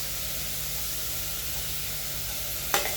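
Garlic cloves and green chillies sizzle steadily in a hot pan, a continuous even hiss throughout, with a brief sharper crackle or stir near the end; no talking.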